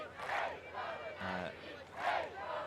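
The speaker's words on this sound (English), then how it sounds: "the neutrals cheering as loudly for that Russian point as we've heard all day here" A packed arena crowd at a European beach ultimate men's final between Great Britain and Russia roars and cheers in swelling waves, loud and sustained, with the noise rising and falling twice.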